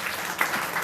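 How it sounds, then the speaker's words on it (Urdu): Audience applause at a book launch, a dense, steady burst of clapping from a crowd indoors, with no talk over it. "قاضی صاحب کے لیے بھرپور تالیاں ہونی چاہیے"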